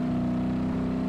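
A car engine in the BeamNG.drive driving game holds a steady, loud tonal drone, close and continuous, with no audible change in pitch over its short span.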